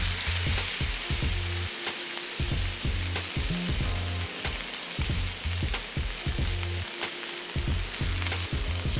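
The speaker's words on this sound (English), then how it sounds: "So go with a vegetable or a canola oil when you're cooking steak." Steak frying in vegetable oil in a hot pan, a loud, steady sizzle and crackle running the whole time with repeated rhythmic scraping or stirring knocks underneath, close and alone with no talk.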